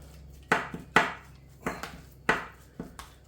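A partly frozen liver and bacon ready meal is stirred, giving about six sharp, irregular knocks and scrapes as a utensil hits the solid frozen chunk, with short gaps between them and no talking.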